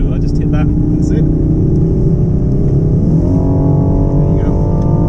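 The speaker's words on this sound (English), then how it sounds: "So you can feel the exhaust change straight away, higher, like revs higher." A Rolls Royce Wraith Black Badge accelerates hard, its exhaust droning steadily and loudly, then the engine note climbs smoothly in pitch as revs rise. A voice talks over the engine.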